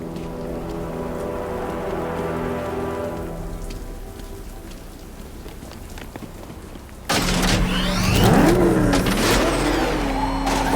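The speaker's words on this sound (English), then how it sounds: "What's with all the rain?" Steady heavy rain falls in Batman: Arkham Knight, a constant hiss on hard surfaces that thins out partway, then a sudden louder burst with a car engine and whooshing movement joining the downpour.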